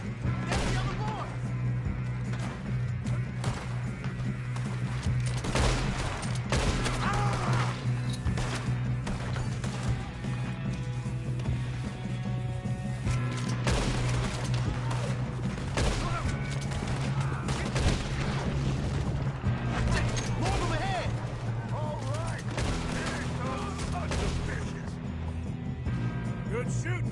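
Sustained gunfire during a shootout in Red Dead Redemption 2, dense rapid shots and cracks layered over music and rumbling ambience, loud throughout with voices occasionally talking over it.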